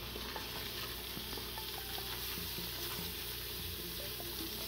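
A spatula works flour into a chicken chili mixture in a hot pan, giving a faint, steady scraping stir over a continuous low sizzle, with no voices.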